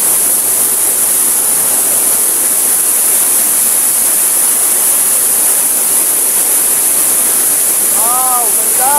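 Payaran Falls waterfall pours in a loud, constant broadband roar heard up close, with a voice briefly calling out near the end.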